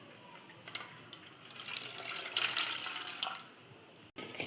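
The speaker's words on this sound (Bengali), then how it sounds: "এবার একটা বাটি নিয়েছি, এর মধ্যে দিয়ে দিচ্ছি উষ্ণ পরিমাণে গরম জল।" Warm water pours from a tap into a bowl for homemade naan dough, a steady splashing stream that builds and then cuts off abruptly near the end, close and alone.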